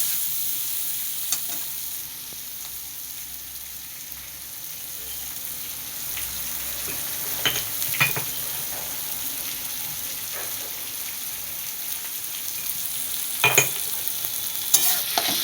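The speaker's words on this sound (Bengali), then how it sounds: "পেঁয়াজটা ভালো করে না মজা পর্যন্ত আমি ভেজে যাব" Chopped onions fry in a pan with a continuous low sizzle, punctuated by a few spatula scrapes and stirring clatters, close and fairly quiet, with no talk over it.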